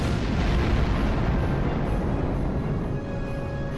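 Starship weapons fire and explosions rumble through a Star Trek Online space battle, a dense, continuous roar of blasts and booms with heavy low-end, loud and sustained.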